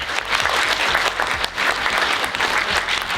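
Audience applause at a Sonic voice actor panel at a gaming expo, a dense, continuous clatter of many hands clapping close by for several seconds, with no talk over it.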